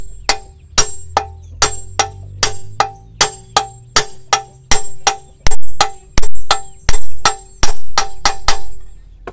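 Repeated sharp metallic hammer strikes on a CVT bearing, about two per second, ringing and steady, growing slightly louder toward the end.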